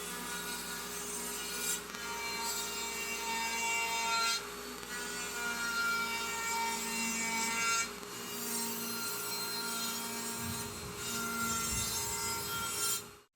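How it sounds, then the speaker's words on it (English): A wooden serving tray board having a chamfer cut along its top edge, steady loud power-tool routing with a few brief breaks, ending abruptly, no voices. "put a chamfer around the top side of the board"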